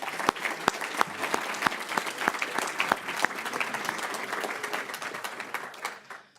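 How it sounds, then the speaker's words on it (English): An audience at a company awards gathering claps in a dense, steady round of applause with a few sharp, close individual claps standing out, holding level before tapering off at the end. "So let's give them all a round of applause."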